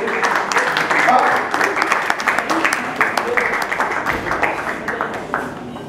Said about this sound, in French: Est-ce qu'on peut applaudir très fort pour M. l'abbé, s'il vous plaît?